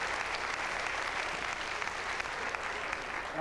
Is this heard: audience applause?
yes